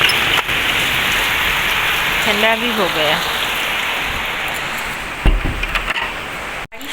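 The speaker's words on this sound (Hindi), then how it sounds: "बहुत तेज़ बारिश हो रहा है" Heavy rain pours steadily in cold weather, a dense constant hiss on surfaces, while a person speaks briefly, a short whistling tone rises midway, and a knock sounds near the end.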